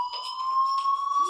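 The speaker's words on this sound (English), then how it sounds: "Hey, do you hear that fire alarm?" A fire alarm in the video game Life is Strange gives a steady, piercing electronic tone that holds loud and continuous with no pauses.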